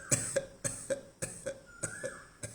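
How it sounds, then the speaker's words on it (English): A person clears their throat repeatedly in short, sharp, evenly spaced bursts, roughly ten in a row, close up and with no other speech. "I'm not really coughing, I'm clearing my throat."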